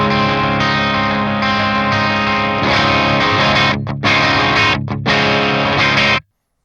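Electric guitar played through a Synergy Marshall JCM 800 amp module, chimey with mild breakup, as sustained strummed chords with brief choked gaps, loud and alone before stopping abruptly.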